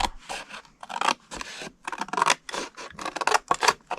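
Scissors snip paper along a score line in quick, close, repeated cuts, a crisp rhythmic series of short crunching slices with brief pauses between them.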